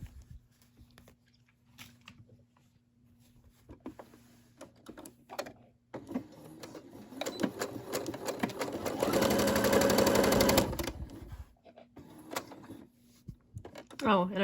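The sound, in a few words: Brother SE600 sewing machine stitching fabric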